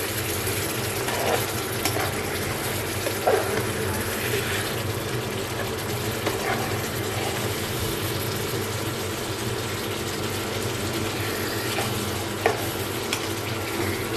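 Curry fries in hot oil in a pan until it turns into a red bhuna, a loud, continuous close sizzle and crackle that holds steady throughout with no talking.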